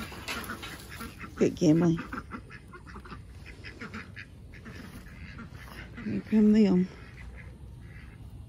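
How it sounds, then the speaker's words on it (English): Ducks give two short bursts of quacking, one around the middle and a louder one near the end, heard from close by with people talking throughout. "It's so cute watching these ducks."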